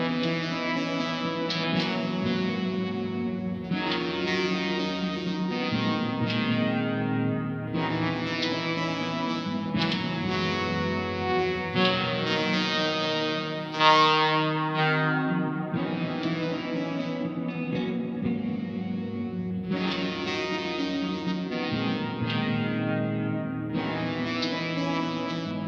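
Simple sustained vocoder synth notes sit over a guitar loop, making a steady, evenly pulsing electronic texture that changes chords every few seconds across a long, continuous passage without any talking.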